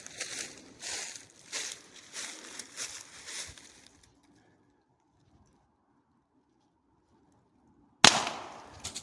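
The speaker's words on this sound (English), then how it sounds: "Let me get in closer for a point blank shot." A point-blank shot from a Pistelle X-68 non-lethal launcher striking a NoCry UltraShield face shield: one sudden, loud crack after several seconds of near silence, preceded by muffled handling noises.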